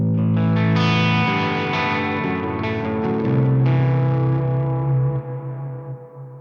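Electric guitar with humbucker pickups played through an amplifier set for crunch, with reverb and delay. Sustained distorted chords ring out loud and full, with echoing tails that fade at the end.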